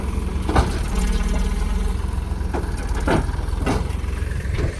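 A tractor engine idles steadily in a farm field where manure is being unloaded, a loud, constant low rumble with a few brief knocks and clatters on top.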